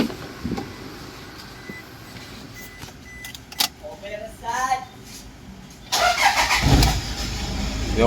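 A Toyota Fortuner engine cranks and catches near the end, preceded by clicks and a brief key jingle. It settles into a steady close idle, with people talking nearby.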